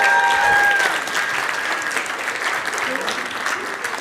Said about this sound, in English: Everyone cheer now.